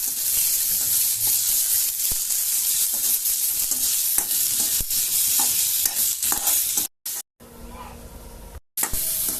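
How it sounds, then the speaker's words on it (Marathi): Chili, garlic and ginger fry in a pan with onion and tomato, a steady loud sizzle with scraping stirs, then abrupt brief drops to near silence near the end. "मिरची, लसूण टाकते आता आणि थोडंसं आलं टाकते। हे आधी भाजून घेऊया आपण चांगलं।"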